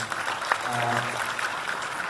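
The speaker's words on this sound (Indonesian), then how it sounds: "Boleh tepuk tangan dulu teman-teman Golkar." A crowd at an Indonesian Golkar party event claps on request, brief steady applause heard at moderate distance, with a voice briefly audible beneath it.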